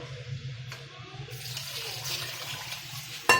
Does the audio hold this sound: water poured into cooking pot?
yes